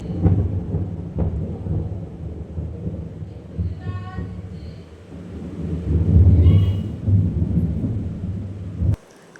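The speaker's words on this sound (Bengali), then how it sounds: "এখন অনেক জোরে জোরে মেঘ ডাকছে" Deep, loud thunder rumbles on and off, rolling heavily with rain in the background, swelling midway before cutting off abruptly.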